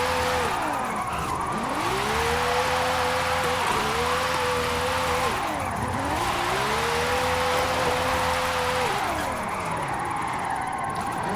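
A 2014 McLaren 650S Spider with a 1191-horsepower racing engine screams through repeated rev climbs and gear shifts while drifting in Forza Horizon 5, tires skidding and howling loudly throughout.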